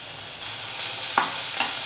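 Crushed garlic frying in sunflower oil in a kadai for pasta, a soft steady sizzle close by with a couple of light clinks of a spoon against the pan.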